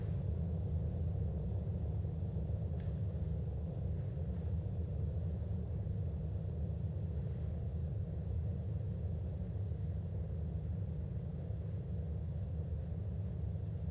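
Boeing 727 jet engines in Flight Simulator X give a steady, loud low rumble with a broad roar that holds evenly throughout, a brief faint high click near the start.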